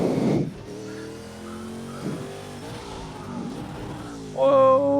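BMW 320 touring car in the Project Cars racing game, an engine note rising and falling through the run, then a sharp, loud tyre squeal from a brake lockup near the end.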